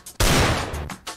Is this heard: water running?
no